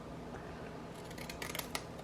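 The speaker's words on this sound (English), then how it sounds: "I'm just going to trim all the way around, and these scissors, they don't work great" Scissors trim paper around faux postage stamps, giving a few quiet, crisp snips in quick succession against a soft background hiss.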